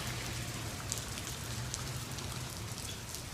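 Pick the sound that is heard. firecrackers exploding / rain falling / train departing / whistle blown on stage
rain falling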